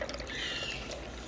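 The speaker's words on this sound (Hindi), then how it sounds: "ये हम इसमें डाल देंगे पानी।" Water pours steadily into a glass holding raw mango syrup for keri ka sharbat, a continuous close splashing rush with no talk.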